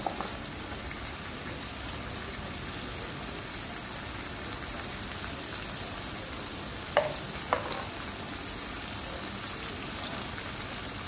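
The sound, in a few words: frying beef with spices, salt and turmeric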